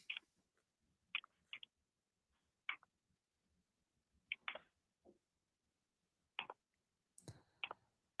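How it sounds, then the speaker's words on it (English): Scattered light clicks and taps of someone typing on a keyboard come through a phone line, faint and irregular with pauses between bursts, from a caller on a sports talk radio show. "I hear him typing in the background"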